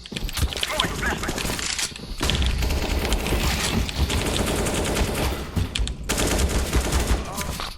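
Gunfire in the video game CS:GO, with repeated bursts of shots and clattering game action running continuously and fairly loud, broken by a couple of short dips, while a player talks over it.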